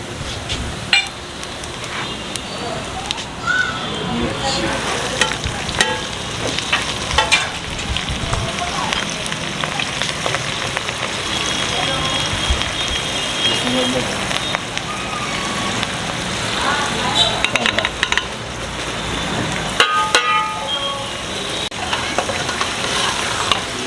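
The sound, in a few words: masoor lentils and cumin frying in a pan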